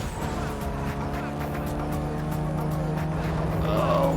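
A race car engine in the Need for Speed: Most Wanted racing game drones steadily at high speed, a sustained tonal whine that swells slightly louder toward the end, with no talking.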